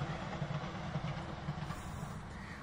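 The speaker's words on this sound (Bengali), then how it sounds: "গমের পাশে জমি দিয়ে একটা ট্রেন যাচ্ছে" A train passes beside a wheat field in Italy, heard as a steady, fairly faint rumble with a low droning hum and soft hiss throughout, with no voices.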